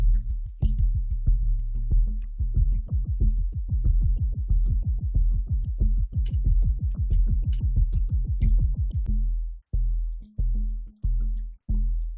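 A steady, fast run of deep kick-like electronic drum hits from an Erica Synths Perkons drum machine, slowed down, at an even tempo, ending in a few spaced, punchy hits.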